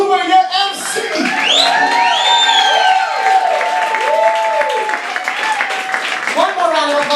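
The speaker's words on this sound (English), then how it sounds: "please give a round of applause to your magical enchantress, your mistress of the evening, Miss Kate Hoover, your MC." A crowd at a New York cosplay cabaret cheers, whoops and claps loudly for a performer, with shouted voices and yells rising over continuous applause.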